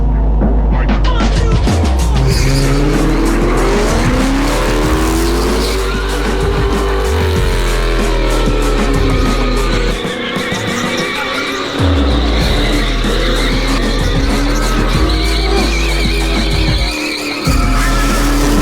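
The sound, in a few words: car tires screeching while skidding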